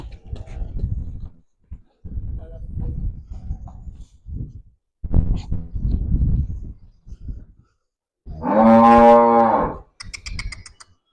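A cow moos loudly and close by at a cattle sale, a long drawn-out call after several seconds of people talking nearby.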